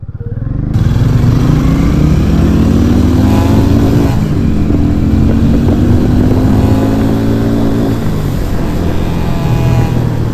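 A Harley-Davidson X440 motorcycle carries two riders and pulls hard. Its engine note climbs and falls through gear changes in a loud, steady roar with wind noise, and no one talks.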